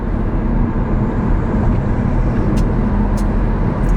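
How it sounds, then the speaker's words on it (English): A self-driving car cruises along, its steady road and engine rumble filling the cabin as a continuous, fairly loud drone with no talk. "The car drives itself, by the way."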